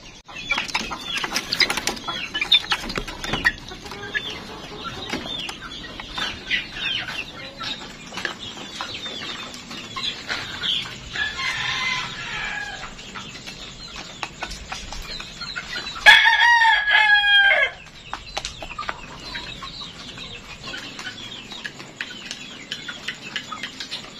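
Young three-month-old Boston Roundhead gamefowl cluck and crow continuously nearby, with a louder, clear rooster crow standing out partway through and some wing flapping.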